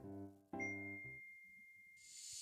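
A phone notification chime rings out in a quiet room: a few bright tonal notes followed by a sustained high tone that fades, then a soft rustle at the end.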